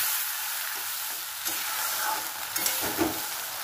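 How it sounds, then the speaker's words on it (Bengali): Ingredients for doi katla, a Bengali fish curry in yogurt, sauté in a pan with a soft continuous sizzle, joined by a few spoon scrapes and stirring knocks toward the end. "এটা একটুখানি কষিয়ে নিই।"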